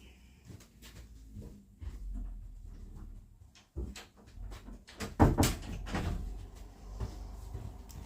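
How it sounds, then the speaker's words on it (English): An indoor door is shut at home, heard as a couple of knocking thuds and a louder bang midway, with handling noises and quiet rustles around them. "I've shut the door on her"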